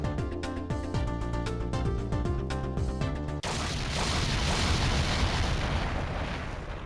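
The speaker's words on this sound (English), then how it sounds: "I think I heard an explosion somewhere." Explosion in the video game Ghost Trick: Phantom Detective: plucked game music notes play first, then a sudden loud, rumbling blast cuts in halfway and roars on steadily to the end.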